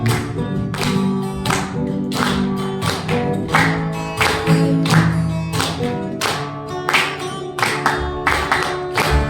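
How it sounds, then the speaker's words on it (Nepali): A church congregation claps along in thanks to the Lord during worship, with steady rhythmic hand claps at a regular beat over music. "ताली बजाउँदै प्रभुलाई धन्यवाद।"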